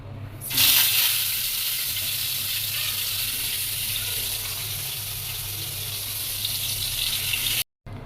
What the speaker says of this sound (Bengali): এটা এখন মাছটা এখন ভাজি করি।